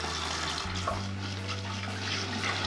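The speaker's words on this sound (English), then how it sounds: "I'm gonna rinse my hands real quick." Water from a kitchen tap runs steadily over hands being rinsed, a continuous close hiss with slight splashing changes as the hands move through the stream.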